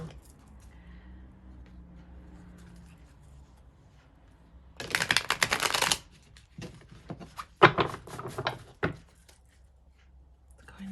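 Tarot cards shuffled by hand during a love reading, with a dense burst of riffling followed by several shorter rustling shuffles and taps, close and fairly quiet against a soft room hum.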